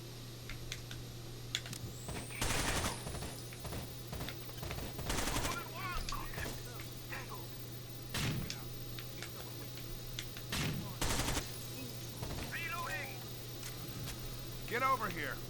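Turret machine gun fire in Rainbow Six Vegas 2, heard as several short bursts of sharp cracks scattered through the stretch, with game sounds and radio voices talking between them.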